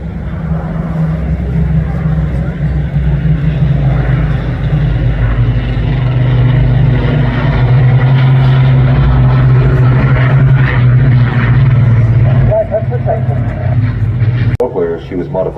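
Piston engines of a Lancaster bomber and an accompanying fighter drone loudly and continuously overhead at the Blackpool airshow, a deep steady roar that swells and shifts near the end.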